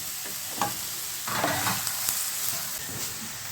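Chopped onion, garlic, shallots and green chilies sauté in hot oil for a spinach thoran, making a close, continuous sizzle with a few spoon scrapes and stirring pushes.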